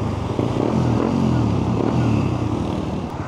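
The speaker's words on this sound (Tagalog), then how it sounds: "Happy si Bro Yongpal sa bago niyang exhaust." A Suzuki GSX 150 motorcycle fitted with a new aftermarket exhaust with a resonator and large canister, its engine note running loud and steady at close range with a low rumble throughout.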